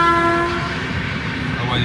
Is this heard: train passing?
yes